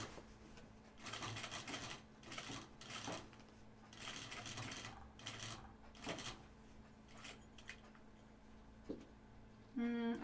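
A sewing machine stitching jeans fabric, quiet bursts of rapid mechanical whirring that start and stop repeatedly, with short pauses and a brief higher buzz at the end.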